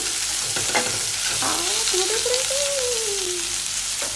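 Chicken pieces frying in a pan with a little butter give off a steady, close sizzle, with faint clinks of a utensil and a brief squealing scrape partway through.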